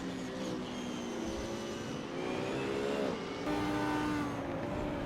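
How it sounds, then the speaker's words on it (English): GT3 race cars battle in the Assetto Corsa racing game at Spa, with several engines droning and whining together, pitches rising and shifting as they jostle for position, steady and fairly loud. "We have McLarens battling and Beamers bumping."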